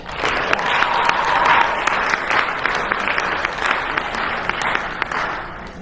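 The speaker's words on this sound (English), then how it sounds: "let's give these guys a round of applause" Sustained audience applause at a team banquet, many hands clapping steadily for several seconds at fairly loud level with a few sharper claps standing out.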